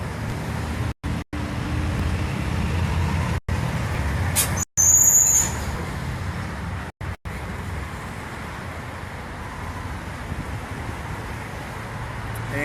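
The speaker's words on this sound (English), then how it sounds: "it's just a never-ending stream of traffic, and slow traffic" A never-ending stream of slow, congested road traffic on a street in Miami, a steady low rumble of engines and tyres with wind buffeting the microphone, faint voices underneath.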